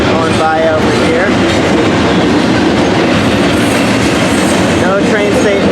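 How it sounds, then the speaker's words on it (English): A big BNSF freight train rolls past outdoors in Barstow, California, a steady loud rumble with rhythmic clickety-clack of wheels on rail and faint squeals, filling the whole stretch with brief voice sounds mixed in. "And we got a train going by now. Seems to be a pretty big one, a BNSF."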